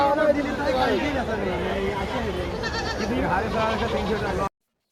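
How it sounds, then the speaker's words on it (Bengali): Goats tied in rows bleat repeatedly amid a busy crowd with chatter and voices talking throughout, a noisy outdoor goat market in Bera, Pabna. "এখানে সারিবদ্ধভাবে যে ছাগলগুলো বাঁধা আছে"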